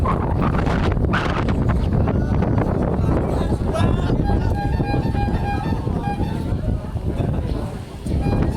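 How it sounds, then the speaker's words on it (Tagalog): Strong wind roars steadily across the microphone during an open-air ride at Sitio Baag, a continuous loud buffeting rush, with people talking over it. "lakas ng hangin"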